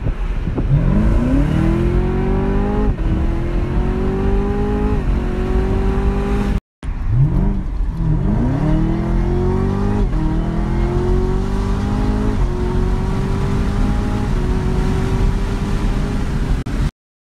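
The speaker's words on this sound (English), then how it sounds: "Little ZR1 rip." A Chevrolet Camaro ZL1 engine revs hard and accelerates through several rising gear pulls, loud and close, with a short break midway.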